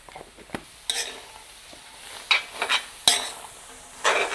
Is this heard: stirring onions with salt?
yes